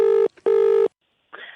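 A telephone call being placed: two long, steady, loud ring tones separated by a short gap, followed by a brief faint noise after a pause.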